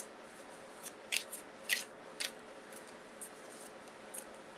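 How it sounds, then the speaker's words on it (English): Cards being shuffled during a live reading, a few quiet crisp riffles and snaps spaced irregularly over a faint background hum, with no talking. "Just going to shuffle while I'm waiting for you."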